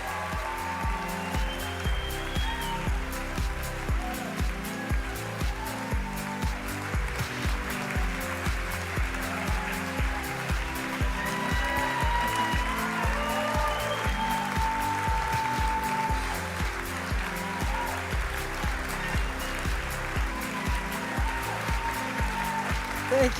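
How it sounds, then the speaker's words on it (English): Thunderous audience applause fills the room at a Minnesota colorectal cancer research foundation gala, a dense, steady clapping that carries on throughout, with voices faintly underneath. "she is going to get a thunderous round of applause from everybody"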